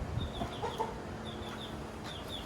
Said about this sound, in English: They need to have a rooster. So Carla found a rooster on Facebook.